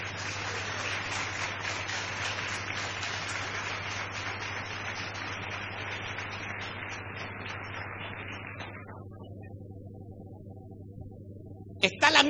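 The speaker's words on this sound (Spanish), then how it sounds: "Denle un fuerte aplauso al Señor." A church congregation applauds in a sustained, dense wash of clapping that fades gradually and dies out, leaving a low hum before a few final sounds at the end.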